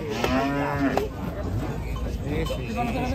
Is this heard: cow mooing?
yes